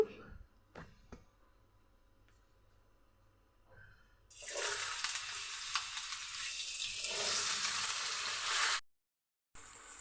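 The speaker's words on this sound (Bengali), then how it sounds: "আমি আলুটা ভেজে নিচ্ছি" Cut potatoes drop into hot oil and burst into a loud, dense sizzle that holds for several seconds before cutting off abruptly. A quiet stretch with faint knocks comes before it.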